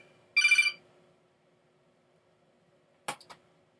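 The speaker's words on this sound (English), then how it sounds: "That's my alarm. Trying to wake me up." A phone alarm ringtone: a short bright trilling ring burst, then silence, followed by two brief sharp chimes about two and a half seconds later, clear and isolated.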